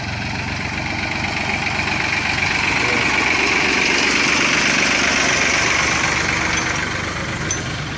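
A tractor engine idles steadily and loudly for the whole stretch, a continuous mid-pitched rumble with a knocking quality under faint voices.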